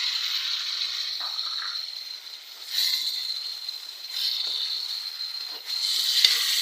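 Peeled tomatoes dropped onto golden fried onions in a hot pan for a keema-stuffed bitter gourd dish, a steady bright sizzle that swells in waves as the pieces hit the oil and are stirred.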